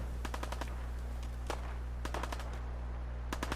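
A pipe rifle fires in Fallout 4, with short bursts of sharp reports at irregular intervals over a steady low hum.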